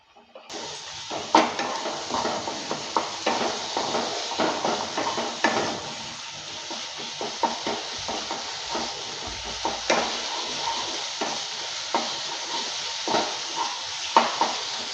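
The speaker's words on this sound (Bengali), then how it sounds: "আমি কিছুক্ষণ সময় নিয়ে ভালো করে মশলাটাকে কষিয়ে নিচ্ছি" A spice masala is stirred and sautéed on low-medium heat for a raw banana kofta curry, with a soft sizzle under repeated spoon scrapes and clinks against the pan, close and uneven, without speech.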